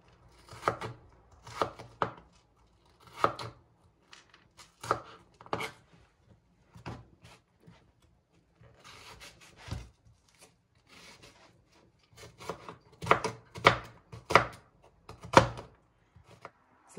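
A knife slices onion into long strips on a kitchen counter for fajitas, giving a steady series of crisp, close blade strikes in irregular bursts with brief pauses, growing denser and louder toward the end, with no talking.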